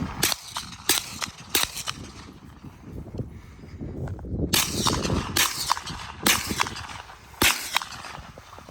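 Zenith ZF-5, an MP5-style roller-delayed rifle, fires a series of sharp, loud reports: a few spaced single shots early on, then a quicker cluster of bangs, each standing out clearly above outdoor background noise.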